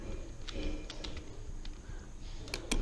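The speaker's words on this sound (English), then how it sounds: "Then after you need to type services.msc" Keys tapped on a Windows 11 computer keyboard, a few sparse, separate clicks spread out over a quiet background, ending with a quicker cluster of taps.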